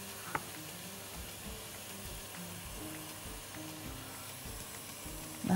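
Onions and chicken gizzards sizzle in a pan on lowered heat, a faint, steady frying hiss with soft stirring knocks and one brief clink near the start.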